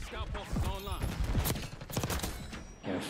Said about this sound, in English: I'm getting sniped from fucking every corner.